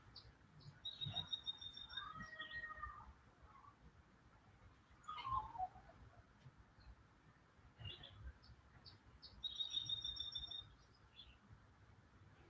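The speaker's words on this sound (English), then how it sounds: "is the painted bunting" A songbird sings short bright warbling phrases, fairly faint and separated by pauses, against a quiet outdoor background.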